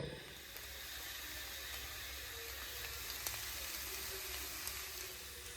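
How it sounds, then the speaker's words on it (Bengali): An egg fries in a pan with a steady, soft sizzle and hiss, faint and unbroken, with a few small pops. "ফ্রিজে ডিম ছিল ডিমটা ভেজে মুড়ি খেয়ে নেবো"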